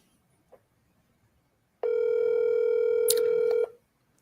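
A telephone rings once as a steady, loud electronic tone lasting under two seconds in an otherwise quiet room, followed by silence.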